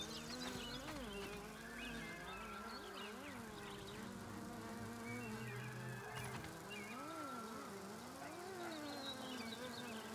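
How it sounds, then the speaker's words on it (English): A bee or fly buzzing in the video game Grounded, a wavering insect drone that rises and falls in pitch, steady and fairly close, alone without talk. "I think I hear a bee or a fly."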